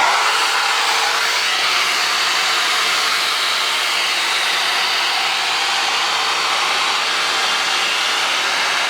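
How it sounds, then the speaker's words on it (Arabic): A hair dryer brush blows hot air through long hair, a loud steady whoosh that runs unbroken and close for the whole stretch, with no talking. "فانا هنشف بيها دلوقتي كل شعري"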